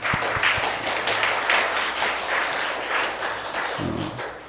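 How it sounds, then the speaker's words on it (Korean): A church congregation applauds during Sunday worship to welcome a newly registered family, with dense, steady clapping from many hands filling the room and a soft low thump near the end. "박수로 한번 환영하겠습니다"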